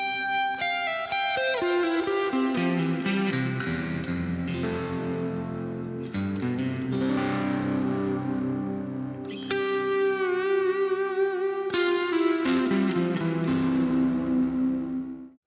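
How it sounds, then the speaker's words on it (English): An electric guitar with overdrive plays chords and melodic phrases through a Boss RV-500 reverb pedal, leaving long, lush reverberant tails that sustain continuously under every note, with no talking. "Let's check this one out with a little bit of overdrive."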